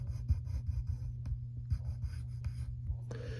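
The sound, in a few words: pencil drawing on paper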